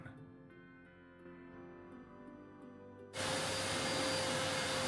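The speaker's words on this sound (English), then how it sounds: "Vacuum cleaner. It worked. Something's happening." Vacuum cleaner sound effect from the Gabriel Knight: Sins of the Fathers video game. A quiet tonal hum gives way after about three seconds to a sudden loud, steady whooshing roar that holds to the end.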